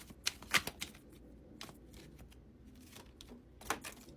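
Crisp riffling and snapping of tarot cards being shuffled, with bursts of rapid flutter at the start and end and softer handling between.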